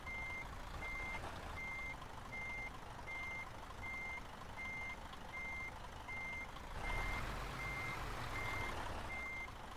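Regular, evenly spaced reversing beeps from a truck backing up in Euro Truck Simulator 2, a steady tone pulsing about twice a second over a low engine rumble that swells briefly near the end.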